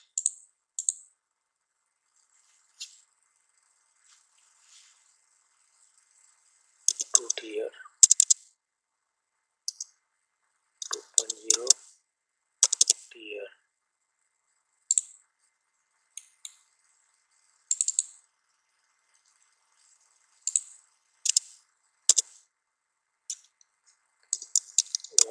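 Keys clatter on a computer keyboard while text goes into building-design drafting software, coming in short bursts of clicks separated by quiet pauses, close and crisp.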